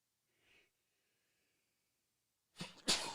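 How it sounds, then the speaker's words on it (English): Quiet near-silence with a soft breath, then a single sharp sneeze bursts out loudly near the end. "I had to sneeze."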